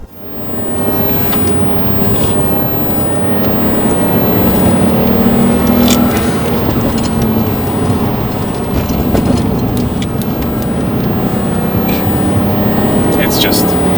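A turbocharged Lexus IS200 with a healthy, rebuilt 1G-FE inline-six runs at a steady idle, giving a loud, continuous droning hum with a broad rushing noise layered over it.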